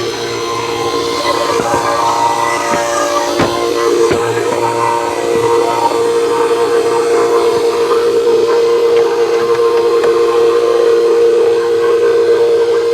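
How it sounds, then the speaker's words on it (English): A vacuum pump runs during an A/C refrigerant recharge on a car in a driveway, giving a steady, loud, hissing mechanical drone with a constant tone that continues without a break. "So the pump is a bit noisy"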